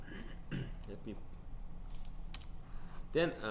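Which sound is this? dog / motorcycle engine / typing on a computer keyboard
typing on a computer keyboard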